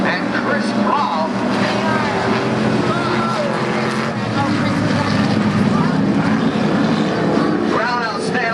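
IMCA stock cars race through a turn, a steady loud engine roar with rising and falling pitch from several cars running close together, over a race commentator's voice.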